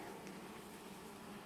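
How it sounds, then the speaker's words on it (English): A bee buzzes in a steady, quiet drone beside a honey super being added to a beehive, a low continuous hum with no voices. "There's already a bee on it."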